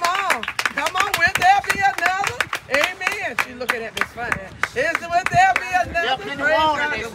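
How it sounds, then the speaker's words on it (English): A church congregation claps along at a baptism service, sharp rhythmic hand claps running steadily throughout beneath loud overlapping singing and talk. "Clap your hands"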